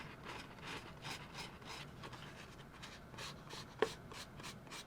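Hand sanding with 220 and 400 grit sandpaper sticks, a quiet, steady rhythmic rasping of repeated back-and-forth strokes, close and alone, with one small sharp tap near the end.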